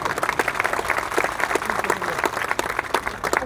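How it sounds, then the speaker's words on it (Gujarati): An audience at a community gathering breaks into dense, steady applause of many hands clapping together at moderate volume, lasting the whole moment. "આપણે બધી તાળીઓ પાડીને એમને જન્મદિવસની શુભેચ્છાઓ પાઠવી."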